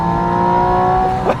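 A Porsche 718 Spyder RS petrol engine with air intakes just behind the seats holds a loud, steady, high revving note from inside the car, tonal and sustained before a brief shift near the end.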